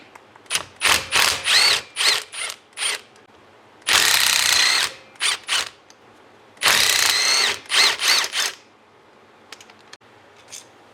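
A ratchet unscrewing E8 reverse-torque alternator bolts on a third-generation Camaro, in close, loud bursts of rapid clicking, some short and some sustained, separated by brief pauses.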